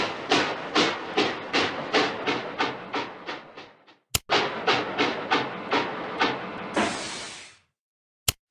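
A cartoon steam train chugs along in a steady rhythm of loud puffs, slowing and pausing briefly, then chugging again before a hiss and a sharp clack.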